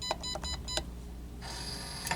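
A hotel room safe keypad at a Residence Inn corner studio in New York's Garment District gives four short electronic beeps, then a longer sustained tone, against quiet room hum.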